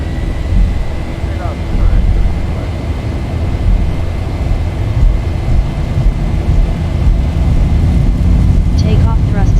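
Zibo 737-800 engines spool up to takeoff thrust in X-Plane on a simulated departure from Aspen, a loud continuous broadband roar with a faint steady tone, while a voice talks over it.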